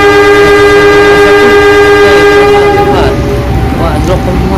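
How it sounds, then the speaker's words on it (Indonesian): A CC 206 locomotive hauling coal and oil wagons sounds a long, very loud, steady multi-tone horn up close, which then gives way to rumbling wheels and rail noise. "Oke, ini kereta api CC20."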